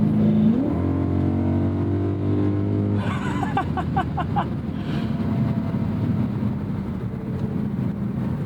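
A 2010 BMW M3 E90 V8 with a DCT gearbox revs hard, its intake induction note rising in pitch, then settling into a steady, loud engine drone heard from inside the car.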